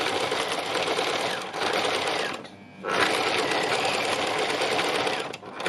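Sewing machine doing free machine embroidery on a textile landscape, running in a fast steady whir that stops briefly twice and restarts, close up and loud.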